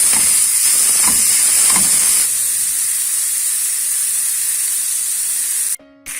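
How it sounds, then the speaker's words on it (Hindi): Onions sautéing lightly in a pan for chicken potato cutlets, giving a steady close hiss and spray-like sizzle that runs throughout and drops out abruptly near the end. "अब इसको प्याज को बहुत ज्यादा गोल्डन नहीं करना है, बिल्कुल लाइट सा सौते करना है।"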